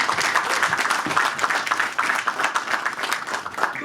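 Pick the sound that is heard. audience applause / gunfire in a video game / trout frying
audience applause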